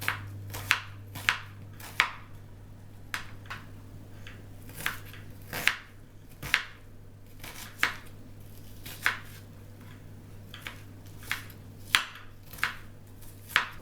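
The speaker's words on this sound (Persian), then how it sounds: "میریم سراغ خورد کردن پیاز" Onions chopped with a knife on a board: sharp, evenly spaced thuds, about one every second, close and clear over a steady low hum, with no talk.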